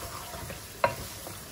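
Mutton frying with masala in a pan gives a soft, steady sizzle close by, broken once by a brief utensil clink.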